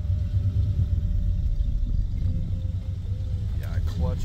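A 1953 car with a flathead engine being driven for the first time gives a steady, loud low rumble with slight throttle swells while someone talks over it.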